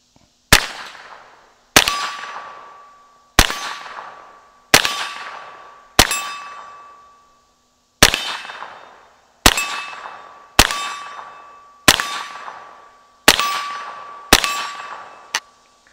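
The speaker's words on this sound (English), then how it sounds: "let's send some down there and see if we can hit that old big plate." A Belgian-made 1960 Browning SA22LR .22 rifle fires eleven single shots at a distant steel plate, each sharp crack followed by a ringing metallic clang that decays before the next, spaced about a second or two apart.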